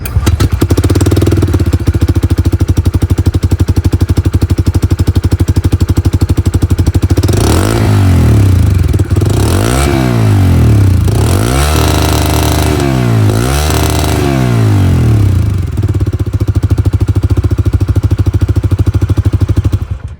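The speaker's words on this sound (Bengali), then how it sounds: "এখানে যে এক্সস্ট সাউন্ড ওটা আপনাদেরকে একটু শুনিয়ে দিই।" A 2024 Bajaj Freedom 125 CNG motorcycle exhaust idles loud and close with a steady, throbbing beat, then several quick throttle blips rev the engine up and back down before it settles into idle again.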